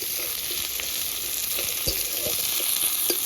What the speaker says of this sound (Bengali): পেঁয়াজ কুচিটা দিয়ে হালকা করে ভেজে নেব